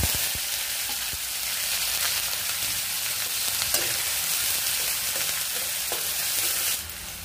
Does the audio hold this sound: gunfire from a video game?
no